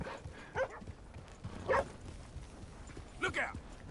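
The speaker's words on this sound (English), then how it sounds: "I think I'm being chased by a dog." A dog barks in short bursts while chasing the player in the Red Dead Redemption 2 video game, with three distinct bark clusters spread over a few seconds beneath game voices and ambient noise.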